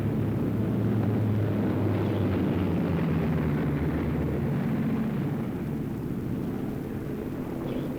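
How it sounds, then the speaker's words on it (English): A steady, heavy mechanical drone with low rumbling throb runs unbroken throughout, like a helicopter's engine and rotors in flight, fairly loud and constant. "But what a job the helicopter can do."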